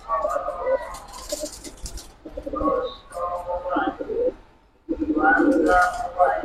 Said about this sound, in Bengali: মাদিটা হচ্ছে কালো গলা লাইনের আর কি, কিন্তু সাইজ দুইটা কবুতরেরই খুব সুন্দর